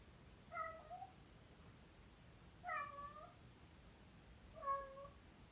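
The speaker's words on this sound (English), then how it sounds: "Gratitude for the cats, even though they meow constantly." Three separate cat meows spaced about two seconds apart, faint and somewhat distant in a quiet room with a soft background hiss.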